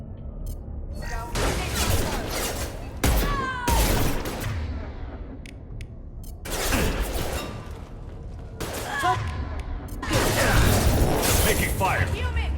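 Gunfire in a Mass Effect 2 firefight, with loud bursts of shots and impacts in several waves separated by brief lulls, mixed with game voices and effects.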